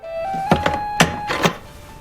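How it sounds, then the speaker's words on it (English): Three firm knocks land on an apartment door in a horror thriller, heavy thuds spaced about half a second apart over a quiet, tense background tone. "At that moment, there's a knock on the door."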